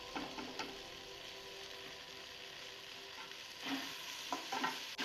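Okra fry with chili and coriander powder is stirred in a pan, giving a soft steady sizzle with occasional scraping strokes of the spatula, quiet and close.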